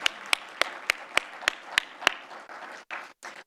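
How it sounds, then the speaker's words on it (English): Applause at a leadership lunch summit: a few evenly spaced sharp claps, then brief scattered clapping from a small audience, close and fairly clear, ending in short bursts. "I'm going to clap."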